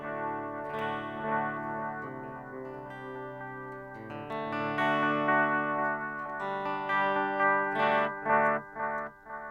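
Guitar played through a Line 6 Pod Express with an effect turned up, a sustained, layered, distorted and chorused tone that swells louder toward the end with sharper picked accents.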